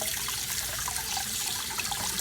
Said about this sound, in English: Keep the cold water running.